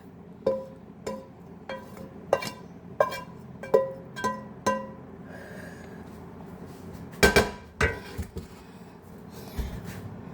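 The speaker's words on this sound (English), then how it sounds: "So we're plating it right now." Breakfast with eggs is plated at home, a run of sharp, evenly spaced clinks and taps of utensils on dishes, then a louder burst of clattering crockery, all close and without talk.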